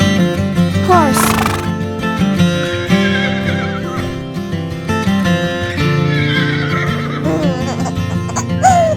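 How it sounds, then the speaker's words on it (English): A horse whinnies repeatedly in loud, wavering neighs over several seconds, with a faint clip-clop of hooves in between. "Horse."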